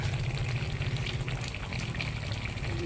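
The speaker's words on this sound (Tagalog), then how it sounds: "unti-unti na kumukulo yung gata" Coconut milk for ginataan heating in a pot and slowly coming to a boil, giving a steady low bubbling and sizzling hiss that stays close and even throughout, with no talking.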